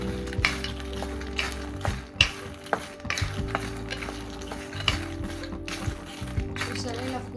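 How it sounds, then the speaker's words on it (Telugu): A cup of phool makhana (fox nuts) being roasted in ghee over a low flame, a close scraping stir of a spatula in the pan repeating in rhythmic strokes, with a faint sizzle underneath. "దీన్ని సిమ్లో మనము ఒక 15 మినిట్స్ బాగా వేయించుకోవాలండి"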